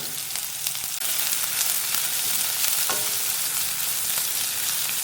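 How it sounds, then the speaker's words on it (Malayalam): Chopped onions hiss and crackle steadily in hot oil for an egg curry, with a few faint scrapes of stirring over a close, continuous sizzle. "അരിഞ്ഞു വെച്ചിരിക്കുന്ന സവോള ചേർത്ത് കൊടുക്കാം ഇതൊന്ന് ഇളക്കി യോജിപ്പിച്ച് കൊടുക്കാം"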